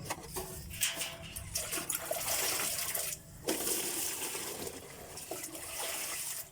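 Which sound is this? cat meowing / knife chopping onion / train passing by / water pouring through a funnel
water pouring through a funnel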